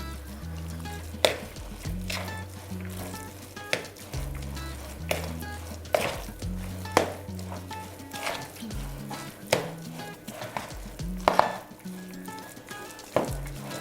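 A thick buckwheat and chicken mince mixture stirred in a bowl, with steady wet squelching and periodic sharp clinks of a utensil against the side, close-up and continuous, no talking.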